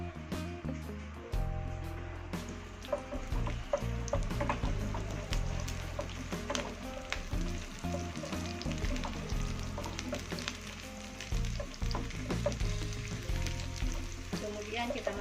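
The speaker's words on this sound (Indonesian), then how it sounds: "Panaskan minyak 10 ml. Kita masukkan bawang merahnya." Shallots frying in about 10 ml of hot oil while preparing chicken satay with peanut sauce, giving a steady close sizzle throughout with background music over it.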